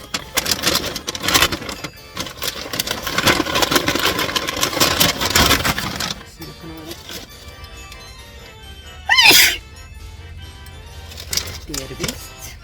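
One person sneezes in a single short, loud burst partway through, amid background noise and talking.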